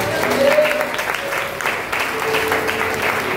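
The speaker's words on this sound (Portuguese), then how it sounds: "Você pode aplaudir Jesus?" Church congregation at a family service in a Pentecostal assembly claps together, a moderate, fairly steady wash of applause with a few voices rising over it.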